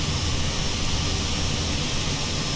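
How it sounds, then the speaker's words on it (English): Engines of the BR Sim Designs E121A1 aircraft in MSFS2020 spooled up to high power for a power back, a loud, steady, dense roar with a faint high whine, unbroken and with no voices. "A lot of power to get the aircraft moving backwards."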